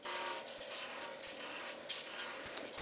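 A sharp 1/16-inch turning tool rubs and scrapes against a spinning wooden yoyo on a lathe, giving a steady, close rasping hiss with small irregular scratches and no talk.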